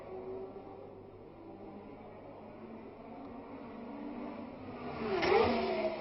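A 1967 Formula 1 race car roars past on the streets of the Monaco Grand Prix, its engine a steady mid-pitched drone that swells into a louder, closer pass near the end, with no speech over it.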